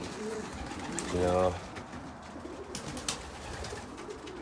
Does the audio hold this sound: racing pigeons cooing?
yes